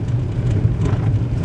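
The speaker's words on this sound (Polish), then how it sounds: "bo teraz cały czas pada i to w sumie teraz nawet więcej" Rain falling on a car, heard from inside, as a steady loud rumbling patter with a low drone underneath and no talking.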